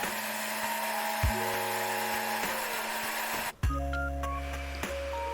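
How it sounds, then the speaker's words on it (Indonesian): A small kitchen blender purees boiled carrot and other vegetables into a paste for pasta dough, its motor a steady, close mechanical whine with a brief dip partway through before running on at a lower pitch. "Blender semua bahan hingga halus"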